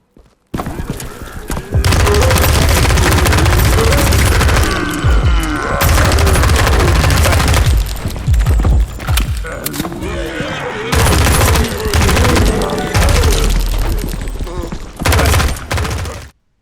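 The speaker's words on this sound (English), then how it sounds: "you get to shoot those weird looking zombies that sometimes explode" Rapid gunfire and heavy explosions erupt while shooting exploding zombies in an indie horror video game, loud and close with dense, near-continuous bursts and booms that pause only briefly.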